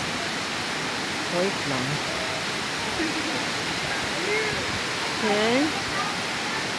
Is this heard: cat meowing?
no